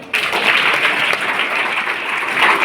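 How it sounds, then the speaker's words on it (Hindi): Students in a school session give a burst of steady, dense applause that starts abruptly and holds at full strength, close and loud throughout. "वेरी गुड, इनके लिए तालियां"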